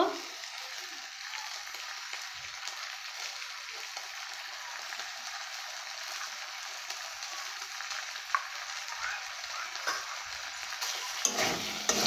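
Ginger garlic paste with chilli powder is sautéed in a pan, giving a continuous close sizzle with faint stirring underneath. A brief louder clatter comes near the end. Nobody speaks.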